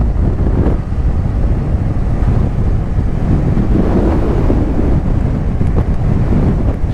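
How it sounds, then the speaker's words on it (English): Blustery wind buffets the microphone outdoors in a steady, loud low roar that gusts slightly throughout, with no other clear sounds. "It's quite blustery."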